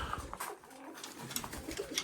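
Low, rolling coos from pigeons in a loft sound close and moderately loud, overlapping in short bursts with faint flutters and shuffling.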